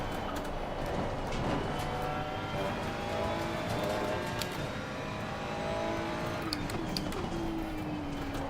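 A Porsche race car in Assetto Corsa Competizione at Spa drones with a steady engine note whose pitch rises and falls through gear changes, with other car sounds in a constant racing din.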